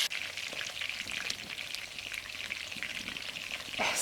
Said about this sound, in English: When the pork starts to turn nice and golden and the skin crispy crackling